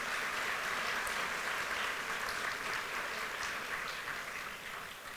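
A dinner audience at a 60th anniversary gala applauds steadily, a dense, even wash of many hands clapping in a large banquet room that tapers slightly toward the end.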